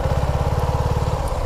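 A Suzuki V-Strom 250 motorcycle engine pulses in a fast, even low thrum as it is ridden, close and steady with no talk.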